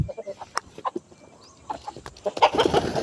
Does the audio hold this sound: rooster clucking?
yes